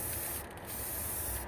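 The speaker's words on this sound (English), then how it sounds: "First, I'm gonna paint it with gold color Krylon. It's automotive paint," Gold Krylon automotive spray paint hisses from the can onto a metal fishing lure in a close, continuous burst with one brief dip partway through.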